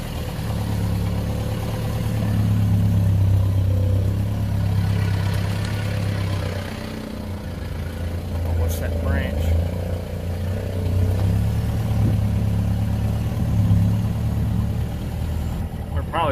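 A Roxor off-road vehicle idling and revving on a dirt trail, its mid-pitched engine droning close and steady with surging pulses, while someone talks over it.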